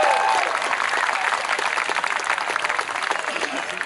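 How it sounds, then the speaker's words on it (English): Outdoor crowd at Peacock in the Park 2014 applauding during a scholarship presentation, a dense, steady wash of many hands clapping throughout, loud and close, with faint voices mixed in. "So a round of applause for that award we won."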